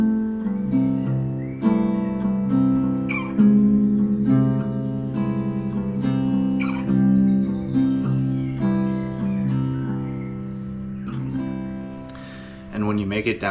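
Slow fingerstyle acoustic guitar in an open tuning, single notes plucked one by one across the strings in a steady descending cycle, each ringing into the next, close and clear.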